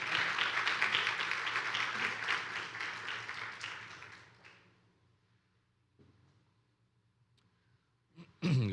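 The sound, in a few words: congregation applause in church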